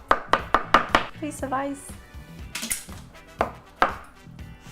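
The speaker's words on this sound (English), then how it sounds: "I'm going to just chop it up into a little bit of a mince." A knife chops strained chicken into mince on a cutting board, with a quick burst of several sharp chops up front and a couple of later knocks, while a person talks between the strokes.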